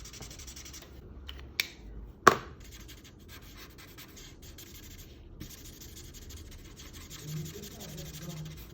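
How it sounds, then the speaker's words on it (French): Colored pencil strokes on paper while coloring a pumpkin drawing, a faint soft scratching and rubbing with a couple of sharp ticks, quiet and close. "On peut colorier la petite tige avec aussi."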